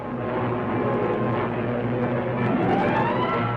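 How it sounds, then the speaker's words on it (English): WWII fighter planes from 1945 Tuskegee Airmen footage droning steadily overhead, a dense, continuous engine roar that holds loud throughout with no pauses. "Enemy planes."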